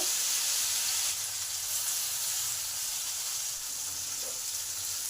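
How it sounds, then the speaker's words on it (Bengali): Pumpkin pieces frying in a pan, a continuous close, even sizzling hiss with a faint soft pop, no voices. "কুমড়োগুলোকে হালকা করে ভেজে নেব।"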